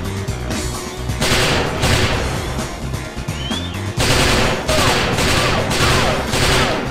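Rapid bursts of gunfire from the video game XIII in a Grand Canyon setting, loud and sustained, with dense clusters of shots broken by brief pauses and a sharp restart midway.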